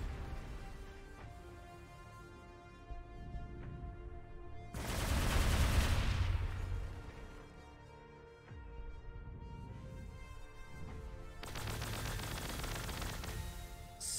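Rapid gunfire from the Warhammer 40,000 Gladius video game crackles in dense bursts, two louder booming volleys standing out over a steady background of shooting, with no voices.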